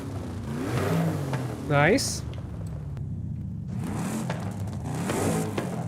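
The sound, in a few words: Chevy car exhaust revving in video game Forza Horizon 5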